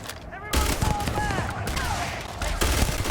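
Rifle fire rings out in the space game Starfield, dense rapid bursts of shots among in-game chatter and effects, loud and continuous.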